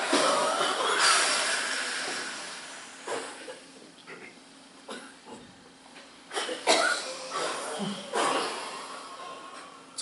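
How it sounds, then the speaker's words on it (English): People coughing and breathing forcefully during a group yoga breathing exercise at a camp, several breathy exhalations and coughs scattered across a noisy room, fairly close. "It's okay if you cough,"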